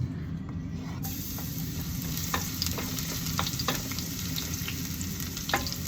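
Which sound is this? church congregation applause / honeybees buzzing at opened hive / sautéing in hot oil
sautéing in hot oil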